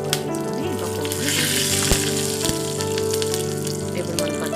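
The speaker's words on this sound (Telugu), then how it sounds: "2 టీ స్పూన్ల నూనె తీసుకొని కొంచెం దంచుకున్న వెల్లుల్లి, పోపు దినుసులు వేసుకొని వేయించుకుందాము" Crushed garlic, tempering spices and dried red chillies fry in two teaspoons of oil for raw mango chutney, giving a steady, close sizzle throughout with a couple of faint clinks.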